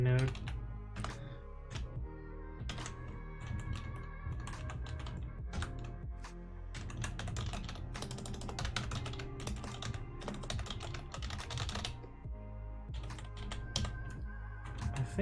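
Computer keyboard typing in a steady, busy patter of keystrokes, close and fairly loud, running almost continuously with brief pauses during a coding session.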